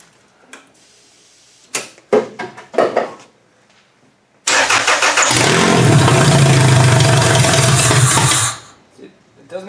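An engine being switched over to run on gas cranks and catches with a few bursts, then roars loudly for several seconds before cutting out abruptly, with a voice speaking briefly around it.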